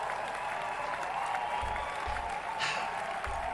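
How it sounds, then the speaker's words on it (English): A crowd gives steady, dense applause that carries on without a break, at a moderate level, and a few low thumps sound under it. "clapping for this menu is appropriate"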